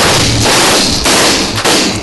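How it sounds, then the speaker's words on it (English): Stun grenades, or flashbangs, go off in sharp, loud thuds, three blasts in quick succession about half a second apart, each with a short noisy decay. "Stun grenades, flashbangs, lots of various names, but they all do the same thing."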